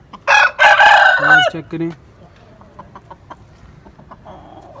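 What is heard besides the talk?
aseel rooster crowing and clucking on a farm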